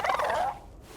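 A griffin in Dragon Age: The Veilguard lets out a loud, warbling squawk lasting about half a second, then fades into quiet background.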